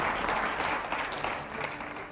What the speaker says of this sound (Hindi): और जोरदार तालियां होनी चाहिए